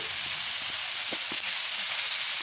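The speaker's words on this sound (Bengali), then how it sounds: "উচ্ছে আলু চিংড়িটা আমি সুন্দর করে এখন ভেজে নেব" Shrimp, bitter gourd and potato with chopped onion fry in oil, giving a steady, even sizzle with a few faint taps in the pan and no talking.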